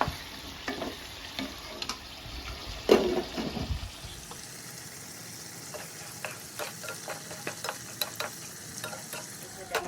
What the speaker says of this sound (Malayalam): എല്ലാ മസാലകളും നല്ലോണം ഇളക്കിയിട്ട് കുറച്ച് നേരം നമ്മളൊന്ന് മൂടി വെക്കുക